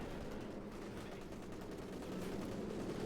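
Machine gun fire in the video game Company of Heroes 2, a dense, continuous rattle of distant automatic shots blending into a steady roar of battle, unbroken for the whole stretch.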